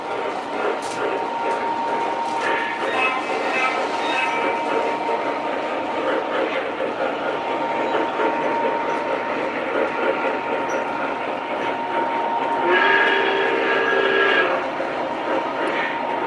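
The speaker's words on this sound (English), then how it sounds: "Here's the ore train we got going." A model ore train running on a hobby layout gives a steady mechanical rumble with sustained horn-like tones partway through, while people talk in the background.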